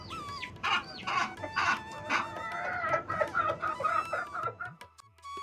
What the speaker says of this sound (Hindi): हाँ हाँ कुक्कुलू, पर तू मुर्गी है, ये आवाज ऐसी तीखी क्यों और इतनी लंबी?